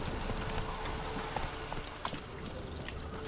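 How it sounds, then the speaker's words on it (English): Horse hooves gallop up a hill in The Witcher 3, a steady rapid clip-clop rhythm of close, loud hoofbeats over a dense outdoor game backdrop. "And the horse running up a hill is so weird."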